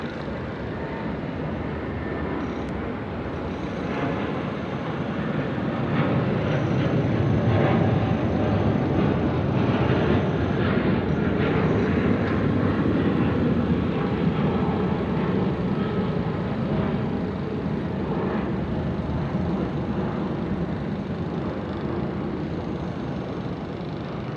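An airplane at Sydney Airport produces a steady, broad engine roar that holds at a fairly constant level throughout, sounding moderately distant and without any voices over it.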